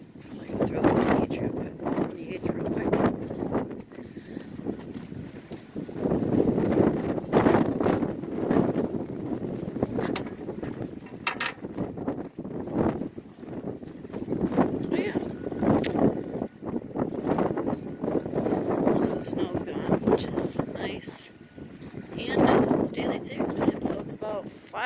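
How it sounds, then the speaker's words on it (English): Strong outdoor wind buffets a camera microphone on a farm in late winter, a loud rumbling roar that swells and fades in gusts for the whole stretch. "And it's also really windy today, so I'll try to hold the camera as still as I can."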